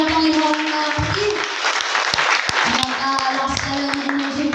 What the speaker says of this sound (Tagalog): Palakpak sa ating mahal na Panginoon na kapatid.